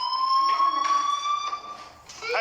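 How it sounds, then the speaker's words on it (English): An electronic fire alarm blares continuously in the video game Life is Strange, a loud steady tone pulsing with faint rhythmic bursts of noise in the background, with no voices over it. "Hey, do you hear that fire alarm? That means you should be outside."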